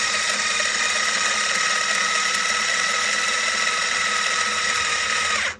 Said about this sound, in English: first thing I'm going to do is remove the strings with my trusty string winder